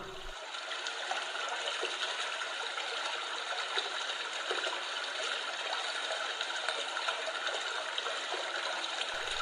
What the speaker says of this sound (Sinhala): ඔයාට ගලාගෙන යන වතුර පාරක් ළඟ ඉන්න ෆීලිං එක ගන්න ඕන නම් මෙන්න මේ සවුන්ඩ් එක යූස් කරන්න පුළුවන්